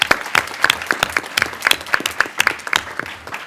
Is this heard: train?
no